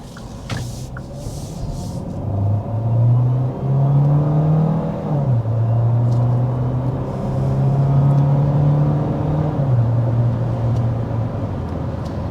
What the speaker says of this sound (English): Now you're probably noticing as I accelerate up to speed